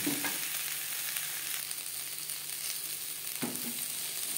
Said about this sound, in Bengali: কাঁচা গন্ধ যাওয়া পর্যন্ত নাড়াচাড়া করে নেব